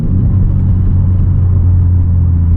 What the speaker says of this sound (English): Let's do a downshift.